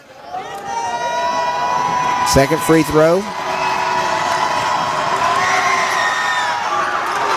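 Lively pro-Calhoun crowd at a Calhoun vs. Bishop State college basketball game cheering and shouting loudly, with whoops and a brief burst of whistle-like tones partway through, under an announcer's voice.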